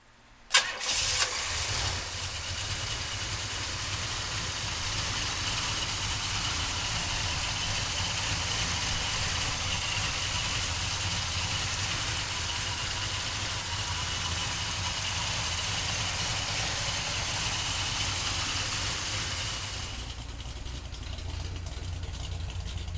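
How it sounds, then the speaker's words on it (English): A 1967 Pontiac GTO cranks and catches within the first second or two, then settles into a steady, loud, rumbling idle that holds for about twenty seconds with no talk. "we'll fire this GTO up"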